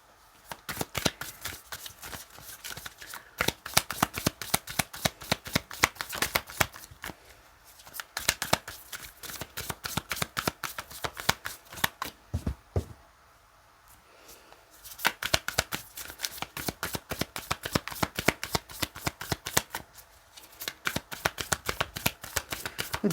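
Flower-meaning tarot cards are shuffled rapidly and repeatedly, dense crisp riffling clatter in long runs broken by a few short pauses, close and clear with no talking.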